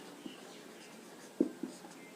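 Writing on a board during a maths lesson, a few short, soft marker strokes scattered over quiet room tone, with one slightly louder squeak in the middle.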